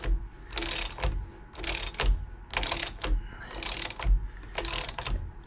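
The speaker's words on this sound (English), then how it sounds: "I'm going to use my 1/2-inch ratchet because I'm nowhere near man enough to torque this too far" A half-inch ratchet clicks in five evenly spaced bursts, each a quick run of pawl clicks while tightening the pinion yoke nut on a GM 14-bolt axle, close and clear with no talking.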